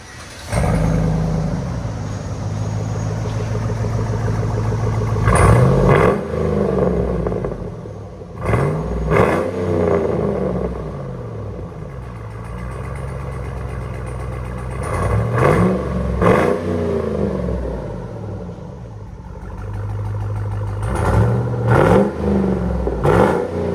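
A 2007 Chevy Tahoe with a 5.3L V8 and Flowmaster Outlaw exhaust idles with a deep, loud rumble and is revved sharply several times, each rev rising and falling in pitch.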